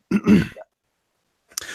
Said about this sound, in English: this is gag coughing, unfortunately. It's Uh, the coughing I do so I don't barf